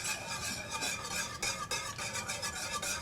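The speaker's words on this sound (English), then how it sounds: "the whole purpose of the whisk is just kind of keep breaking it up as you're stirring" A whisk stirs milk into a thick, gravy-like mixture in a pot, giving a steady scraping, swishing rhythm of repeated strokes against the metal, close and alone.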